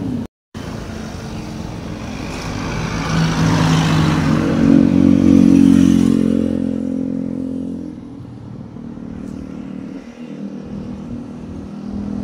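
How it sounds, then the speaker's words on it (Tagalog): A motorcycle ridden along a road in Calumpit, Bulacan, its engine droning steadily and swelling louder for a few seconds before easing off, close and continuous with wind noise and no speech. "Motor lang natin ang ating kasama."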